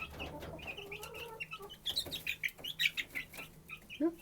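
Young roosters cluck and chirp in a rhythmic run of short calls inside a pen, fairly faint and with no talk.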